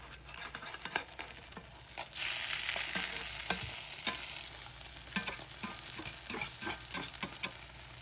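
An omelette with vegetables cooks in a frying pan, a soft continuous sizzle with intermittent stirring and crackling pops, quiet and close with no talking.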